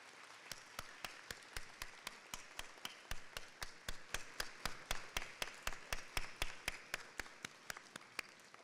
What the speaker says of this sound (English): Students and families, please join me in a round of applause.